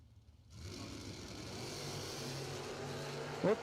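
Drag racing cars, a Camaro ragtop and a Roadster, launch at a drag strip, a faint engine roar surging in and holding steady from a distance with a brief sharper burst near the end.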